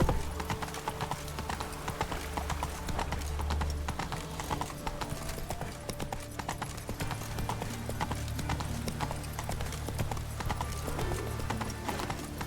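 Roach, the horse in The Witcher 3 game, galloping: continuous rapid hoofbeat clip-clop near and loud, with a brief neigh and faint in-game voices and music beneath.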